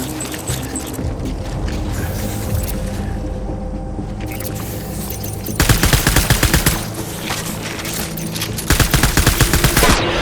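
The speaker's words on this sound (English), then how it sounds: "Taking fire." Gunfire in Death Stranding breaks out in sharp, crackling bursts of rapid shots over a constant low rumble, loud and close, arriving in two clusters separated by a short lull.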